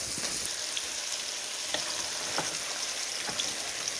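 Fish and pui shak greens sizzle steadily in a frying pan, a continuous bright crackle with occasional soft scrapes from stirring, close and alone.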